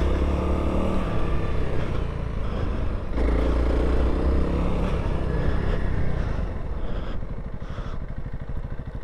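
A 2021 Honda CRF300L dual-sport motorcycle putts along in third gear on a rutted trail, its engine a steady, close, low rumble with gentle rises and falls in throttle.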